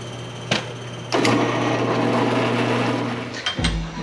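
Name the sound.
drilling metal hole slowly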